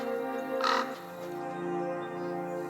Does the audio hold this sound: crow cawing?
yes